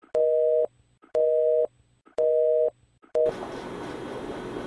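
A phone line tone after a call is hung up: three evenly spaced, loud, flat beeps with silent gaps, then a fourth cut short as steady hiss and line noise take over.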